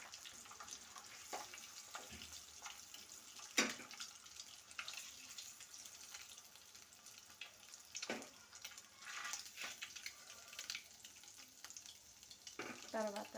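Eggs frying in oil in a pan while cooking an egg and dry fish curry, a steady soft sizzle with occasional louder crackles and clinks, no talking.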